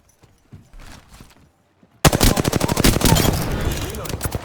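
In Apex Legends, a quiet stretch gives way to a sudden, loud, sustained burst of rapid automatic gunfire, dense rattling shots close up that continue to the end.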